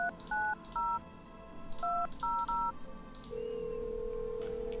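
A phone is dialed in the video game No I'm Not A Human: a quick series of clipped touch-tone beeps in uneven rhythm, then a steady ringing tone that holds to the end.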